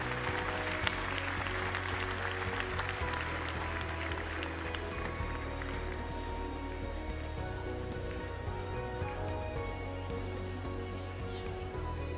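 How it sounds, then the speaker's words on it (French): Applause from the audience at a Montbéliarde dairy cattle show in Paris, honouring old cows for their milk production. Steady, dense clapping fills the whole stretch over a low hum of the hall. "Je pense qu'on peut les applaudir pour la magnifique production de ces vieilles vaches."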